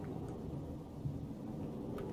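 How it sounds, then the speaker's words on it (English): Storm in the video game Rain World: a steady, low rolling rumble of thunder with a faint wash of rain, continuous and fairly quiet across two seconds, with no talking. "Oh, the lightning is getting worse, isn't it?"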